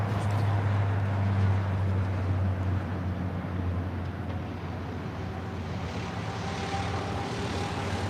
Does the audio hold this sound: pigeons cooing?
no